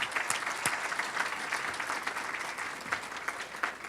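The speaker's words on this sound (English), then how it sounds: "So how about a round of applause for them?" A banquet audience applauds the administrative and dining services teams, a steady wash of many hands clapping at moderate distance with a few sharper claps standing out.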